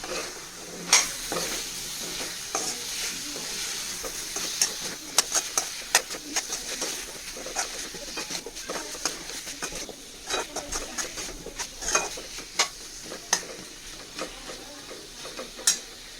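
Drumstick pieces stirred in a pan of spiced masala, with a steady low sizzle and frequent clicking spoon scrapes against the pan, close and moderately quiet, with no talk.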